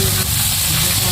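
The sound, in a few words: crispy squid frying in oil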